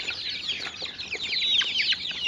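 Several chickens cluck and chirp softly and steadily while eating feed mixed with chicken tea, with no one speaking.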